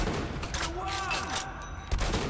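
Gunfire in Metro: Last Light as shots hit a vehicle's tires and a mounted cannon, a sustained rattling volley with a heavier thump near the end, with game music and effects beneath.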